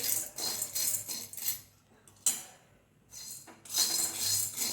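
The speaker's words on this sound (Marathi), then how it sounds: "मंद गॅसवर आपण साबुदाणे चांगले भाजून घ्यायचे" Sago pearls dry-roasting in a kadhai over low gas, a spoon scraping and stirring in bursts of gritty rattles with short quiet pauses between, close and fairly soft, no talk.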